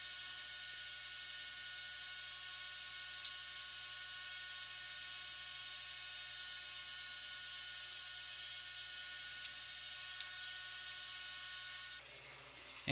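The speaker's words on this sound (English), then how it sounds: "And more sanding." A steady high-pitched mechanical whir of a sander on a wooden table top runs without pause for about twelve seconds, then cuts off abruptly, leaving near silence.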